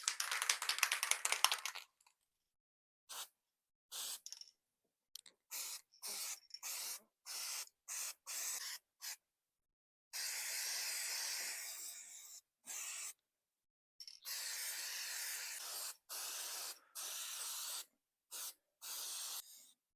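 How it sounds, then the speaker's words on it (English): Repeated short bursts of high-tack gasket sealant sprayed from an aerosol can onto a head gasket, hissing in quick pumps separated by brief pauses, with a few longer sustained sprays. "spray the head gasket with some high-tack just to seal any imperfections"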